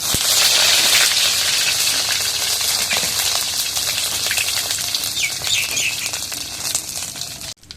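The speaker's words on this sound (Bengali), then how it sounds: "এখন রসুন ছেঁচা এখন একটু জিরা দিয়ে দিই এখন পেঁয়াজ কুটা দিয়ে দিই" Crushed garlic, cumin and chopped onion fry in a pan with a continuous close sizzle and scattered crackles, loud at first and easing slightly, and no one speaks.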